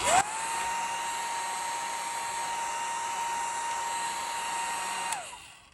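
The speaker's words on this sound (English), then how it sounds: "I'm hitting this with a hair dryer so that it dries these spots" A hair dryer blows steadily and loudly on a watercolor painting for about five seconds with a high whine, then switches off and winds down.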